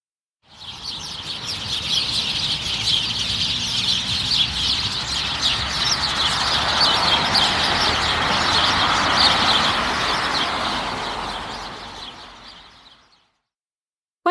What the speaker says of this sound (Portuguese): Canto dos pássaros e barulho gerado por automóveis.